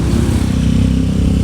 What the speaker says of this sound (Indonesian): Scoopy karbu sudah injeksi, guys. So far sih halus ya mesinnya ya.